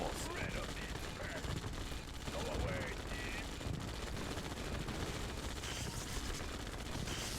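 Rapid gunfire from infantry shooting at people in the strategy game Yuri's Revenge, dense continuous bursts of shots filling the whole stretch at steady loudness, with a voice talking over it.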